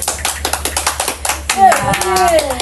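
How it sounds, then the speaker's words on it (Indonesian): A classroom of children clapping for a student who answered correctly, a quick burst of separate hand claps in the first half, then a teacher's voice speaking over fading claps. "tepuk tangan untuk Delisa dulu"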